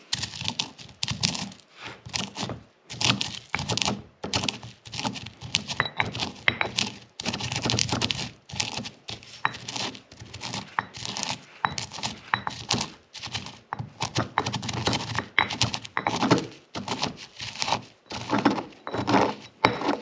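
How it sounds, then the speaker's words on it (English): Manzanita berries crushed in a mortar and pestle, with repeated dry knocks, grinding scrapes and thuds in an irregular rhythm, close and fairly soft, without talking. "we're going to take some of these Manzanita berries and put them in the mortar and pestle"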